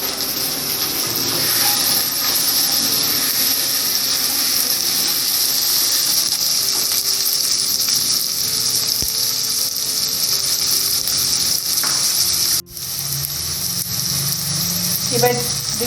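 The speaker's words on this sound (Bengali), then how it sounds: "এবার আমি আলুগুলোকে এর সাথে দিয়ে একটু ভেজে নিই।" Potatoes frying in oil in a pan while cooking soya pulao, a steady close hiss and sizzle running throughout, briefly interrupted near the end by a stir or clatter.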